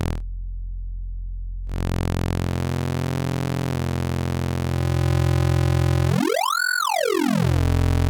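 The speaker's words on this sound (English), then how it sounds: "it gives us that trademark kind of oscillator sync sound" Synthesizer oscillator sync tone morphing between saw and square waves, a sustained buzzy drone that starts after a brief gap and ends with a loud sweeping pitch rise and fall, heard alone.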